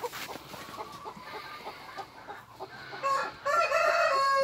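Cemani chickens at a Brazilian breeding farm cluck in a quick rhythm, close and moderately loud, and near the end a rooster lets out a strong crow.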